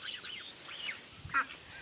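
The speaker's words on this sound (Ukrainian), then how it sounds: "Качечка моя так і одна ходить" A muscovy duck gives a few soft, raspy honks and hisses at close range, fairly quiet against a calm background.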